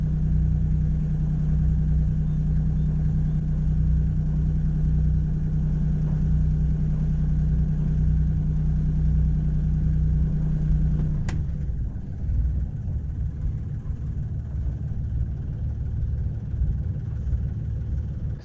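A Bavaria 41 sailboat's inboard engine drones steadily while motoring into an anchorage, then the deep hum drops off partway through after a sharp click, leaving a lower, rougher idle rumble with no voices.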